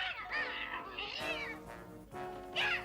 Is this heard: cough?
no